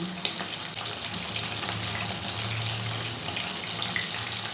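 Turmeric-coated bata fish fry in hot oil in a pan over a medium gas flame, a steady, fairly quiet sizzle that carries on unbroken with no voices.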